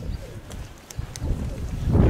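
Pigeons coo at a dovecote on a windy day, soft low murmurs mixed with gusty rumble and a few faint clicks, growing busier toward the end.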